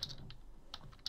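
Computer keyboard keys pressed in a few quick, light clicks, scattered irregularly in short bursts at the start, middle and end, close and fairly quiet, with no talk.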